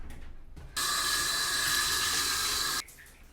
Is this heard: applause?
no